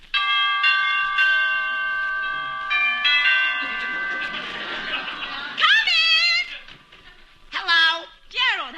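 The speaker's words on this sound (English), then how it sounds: "Well, I'll ring the bell." A doorbell chimes on a 1949 Martin & Lewis radio comedy show: clear ringing bell tones sustain for several seconds, followed by voices and short bursts of vocal sound.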